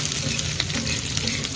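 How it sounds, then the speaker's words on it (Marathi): Green chillies fry in a pan with a steady, dense sizzle and a few stirring scrapes, close and continuous with no voices. "ते चांगलं असं शिजलं पाहिजे, हिरवी मिरच्या कच्चे राहिले नाही पाहिजे. चांगला फ्राय झाला."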